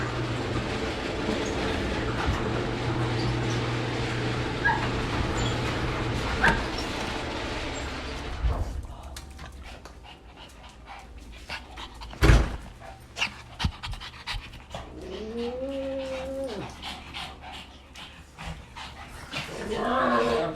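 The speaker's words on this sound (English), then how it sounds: "it's some of my favorite sounds to hear my dogs being excited that I'm home" Pet dogs pant hard and whimper with excitement as their owner comes home, heavy rhythmic breathing up close followed by scattered clicks, shuffling and a couple of rising whines.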